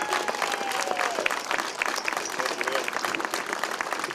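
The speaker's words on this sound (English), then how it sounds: "I'm clapping loud too" Steady, dense applause from an outdoor crowd at a South Boston National Night Out community event in 2019, loud and continuous, with voices and cheers mixed in.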